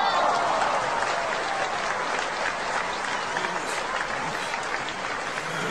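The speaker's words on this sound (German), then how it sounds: "das hat einen Applaus verdient" Steady applause from an audience after a talk on omega-3 fatty acids, dense and continuous clapping at even loudness throughout, with faint murmuring mixed in.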